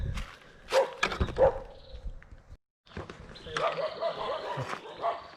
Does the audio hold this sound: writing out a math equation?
no